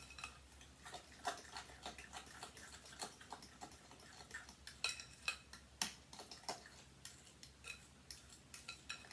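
A fork mixes sugar into banana pumpkin muffin batter in a bowl, making quiet, irregular clicks and taps against the sides, close and faint with no speech.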